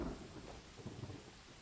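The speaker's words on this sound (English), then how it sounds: "The sound of rain diminishes." Rain and low rumbling thunder fill the Pathfinder: Wrath of the Righteous game scene with a steady, fairly soft wash of rainfall and a faint deep roll.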